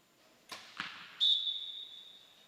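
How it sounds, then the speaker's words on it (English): A compound arrow thuds into an indoor archery target in a men's gold medal match at a national championship, with a sharp hit followed by a second thump and a ringing tone that trails off. "Kyle Douglas sends it down into the 10 ring."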